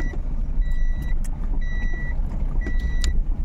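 A vehicle moves along a rural road with a low, steady engine rumble close by, and repeated high electronic beeps sound in regular bursts over it.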